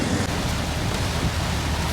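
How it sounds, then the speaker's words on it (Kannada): Heavy rain pours in a dense, continuous roar during a road trip, heard from inside a moving vehicle, with loud uniform hiss and low rumble throughout. "ಮಳೆ ನೋಡಿದ್ರೆ ಭಾರಿ ರೋಡೇ ಕಾಣಿಸ್ತಾ ಇಲ್ಲ ಹಂಗೆ ಬೀಳ್ತಾ ಇದೆ ಅವಾಗಿಂದ ಭರ್ಜರಿಯಾಗಿ ಬೀಳ್ತಾ ಇದೆ"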